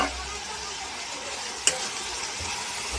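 Chopped tomato hits a hot frying pan, giving a steady, even sizzle throughout with one sharp clink of a utensil partway through.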